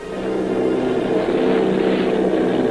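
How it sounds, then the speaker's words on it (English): Military bomber airplanes in a radio drama effect: a steady, loud droning engine roar fades in quickly and holds evenly, with no voices over it. "Army bombing plane B-843 off Bayonne, New Jersey"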